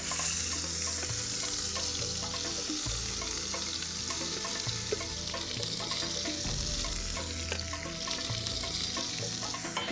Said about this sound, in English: One of the things that makes this spice paste unique is that you fry it before applying it to the meat.